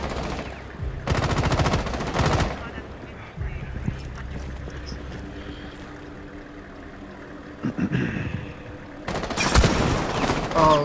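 Bursts of automatic gunfire in the Rainbow Six Siege video game, one loud volley near the start and another at the end, with quieter scattered shots and game noise between them.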